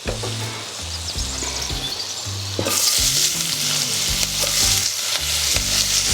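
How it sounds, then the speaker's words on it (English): Chopped onion sizzles in melted butter in a saucepan for nettle soup: a steady fry that jumps to a louder, brighter hiss partway through, with low tonal sounds running underneath. "once the butter has melted, I'm going to add the onion first of all"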